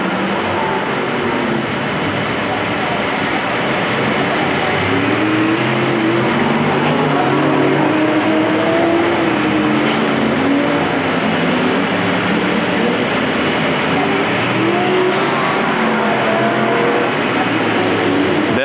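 Figure 8 race cars roar around Perris Auto Speedway as several engines blend into a loud, continuous drone with rising and falling pitch, the sound holding steady throughout.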